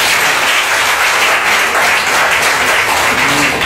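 An audience at a ceremony in Abidjan applauds in a dense, steady wash of clapping that stays loud and continuous throughout, with no voice on top.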